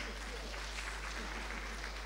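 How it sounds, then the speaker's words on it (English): Crowd at a formal event gives a sponsor another round of applause, dense even clapping heard from a distance over a steady low hum. "Another applause, please."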